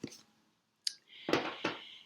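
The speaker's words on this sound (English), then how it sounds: "started shuffling, and there were 4 cards that wanted to come out together after a little shuffling" Quiet shuffling of a deck of Elemental Oracle cards, heard as a soft papery flick followed by two brisk, close riffling bursts.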